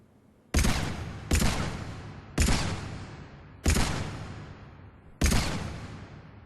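Five separate Carnifex heavy pistol shots from Mass Effect 3 at mid-range, each a sharp loud crack that fades with a decaying tail, fired at uneven intervals of about a second with nothing else heard.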